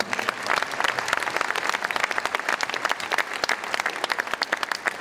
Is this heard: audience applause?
yes